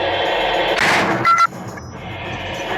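Gunfire follows a shouted fire command: one loud, sharp burst of shots cuts through a steady background rumble and then fades back into the noise.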